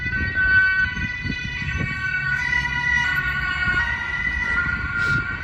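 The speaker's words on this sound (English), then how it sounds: "The police sirens here are so cute" A loud police siren wails continuously nearby on a street in Karlsruhe, Germany, its tone holding steady over the rumble of passing traffic.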